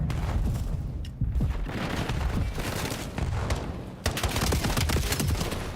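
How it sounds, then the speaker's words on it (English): Dense rapid gunfire from a Call of Duty match in a pro league qualifier, a loud continuous volley of shots and impacts with booming bursts, under caster talk. "Clean pistol shots there."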